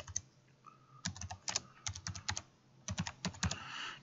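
A computer keyboard typed on in quick bursts of crisp, close key clicks with short pauses between, as keywords go into a library search box; no talking.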